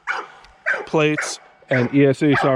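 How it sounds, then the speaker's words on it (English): A dog barks in short, sharp bursts indoors, two to three clipped barks close by, mixed in with someone talking. "my dog's freaking out."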